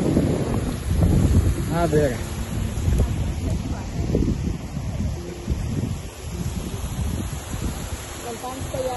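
Breeze blows by the water in Yekaterinburg, buffeting the microphone with steady gusty rumble while people talk over it.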